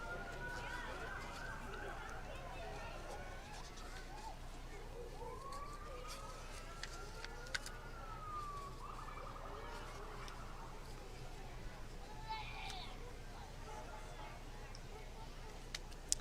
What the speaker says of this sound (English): Sounds like the sirens are getting a little louder, so I think it's getting a little closer to us here.